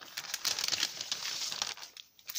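Paper packaging around handmade crafts crinkles and rustles close by as it is unwrapped, in bursts of crackling that ease off briefly before a final crinkle.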